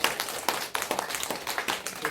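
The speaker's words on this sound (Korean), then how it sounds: "여러분 박수로 감사드리고" A church congregation at the close of a Sunday worship service claps together, with bursts of hands clapping in a loose rhythm at moderate volume in a reverberant hall.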